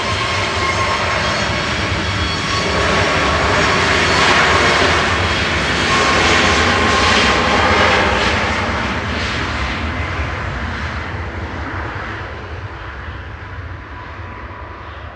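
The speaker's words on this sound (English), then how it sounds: "That was 9HLYR, a 5-year-old 737 MAX 8 departing there for Chewy, operated by SmartLinks Malta." A Boeing 737 MAX 8 departs Manchester Airport, its engines a loud, broad roar that swells as it passes and then fades gradually into the distance.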